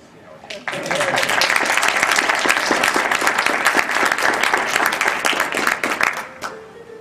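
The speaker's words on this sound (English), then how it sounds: "there will certainly be some applause" An audience at a Bach-themed talk in Koethen breaks into close, crisp applause that starts abruptly, stays full and steady for several seconds, then thins and fades out.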